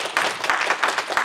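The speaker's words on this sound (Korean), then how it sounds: "박수로 열렬하게 환영합니다." Church congregation at a Korean Presbyterian Sunday service in Las Vegas gives a short burst of applause to welcome new members, a brief patter of clapping hands fairly close and fairly loud.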